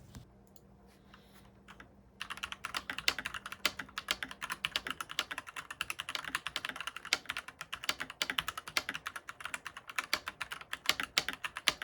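Rapid continuous typing on an ilovbee i87 mechanical keyboard on a desk pad, close and crisp with dense clacky keystrokes after a quiet start.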